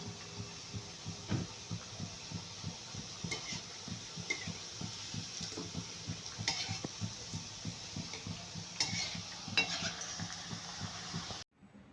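Orange pakoras fry in oil in a pan, giving a quiet, steady sizzle with a pulsing bubbling rhythm and occasional light clicks. The sound runs for about twelve seconds, then stops abruptly, with no talking.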